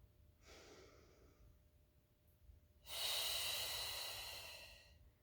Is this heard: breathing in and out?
yes